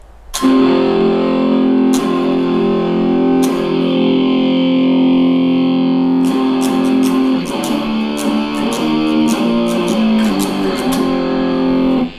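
Clean electric guitar tone through an AmpliTube 5 amp simulator, sustained chords ringing out, then a run of quick picked notes with crisp attacks.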